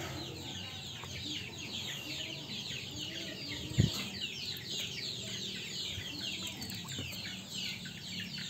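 Free-range village chickens clucking and chattering at moderate distance, a busy overlapping flock sound that runs steadily throughout, with one brief thump partway through.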